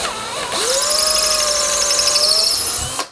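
A power drill spins up and whines steadily while boring a hole in a bass guitar kit part, a close, loud high-pitched tone lasting a few seconds before stopping.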